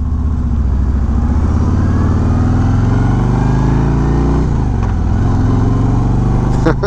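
A 2021 Harley-Davidson Road Glide Special being ridden, its V-twin engine giving a loud, close, continuous low rumble that shifts pitch slightly as the bike rolls along.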